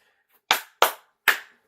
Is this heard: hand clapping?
yes